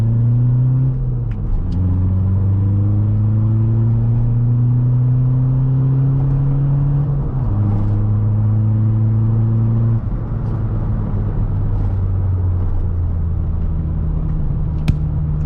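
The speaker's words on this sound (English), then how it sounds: "Oh, that was way too much wheel spin." A Mini Cooper S or a Mk4 1.9 TDI wagon accelerates hard from a stop with wheel spin, its loud engine drone rising in pitch through several gear changes, close up and continuous with no talking.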